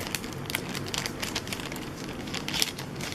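A small plastic package of ladybug scrapbook embellishments is cut and torn open, giving soft, close crinkling and rustling with a few sharper snips.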